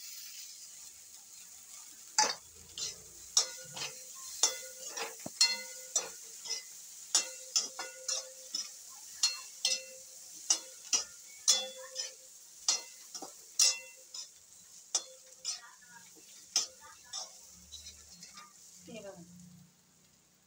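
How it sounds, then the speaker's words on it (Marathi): Bitter gourd (karela) fries in a pan with a steady sizzle, punctuated by frequent sharp clinks and scrapes of a spatula stirring, before a short spoken remark. "छान आपले कारले फ्राय झालेले आहे"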